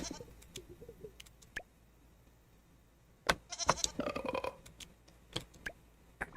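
Farm goat in the video game Moonlight Peaks gives a short cluster of bleats midway, close and fairly quiet, surrounded by small clicks and scattered game sound effects.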